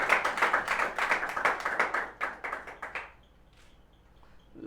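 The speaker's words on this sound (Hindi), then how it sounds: "जोरदार तालियां होते रहें बच्चों।" A group of children claps loudly at a student award ceremony, with rapid, dense clapping that continues for about three seconds and then stops, leaving a quiet room with faint background noise.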